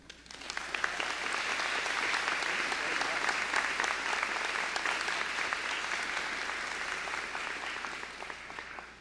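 Sustained audience applause at a graduation ceremony welcoming a speaker, a dense, even wash of many hands clapping that swells in quickly and holds steady for several seconds before easing slightly.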